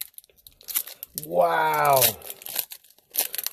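A trading card pack wrapper, an Apocalypse pack, torn open: short crinkling and ripping bursts before and after, with a person's voice exclaiming in the middle.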